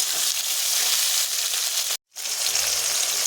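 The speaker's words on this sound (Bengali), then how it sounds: "এবার এটাকে আমি ভালো করে নাড়াচাড়া করে নেব" Potatoes frying in a pan and being turned over, a bright continuous sizzle that cuts out for a brief moment and then resumes, close up with no voices.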